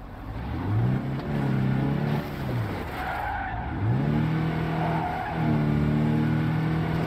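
A car in the video game State of Decay 2 drives hard and skids, its engine revving in repeated rising sweeps under a steady loud rumble, with tire scrubbing and a game soundscape around it.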